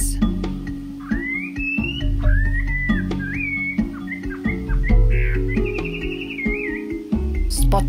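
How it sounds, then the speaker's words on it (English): A spot-breasted laughing thrush's clear, varied whistled phrases repeat through the clip, rising and falling melodically over a steady background hum, fairly close and prominent, in Murlen National Park, Mizoram, India. "Spot-breasted laughing thrush, a beautiful songbird which is difficult to shoot, often found deep in the bushes."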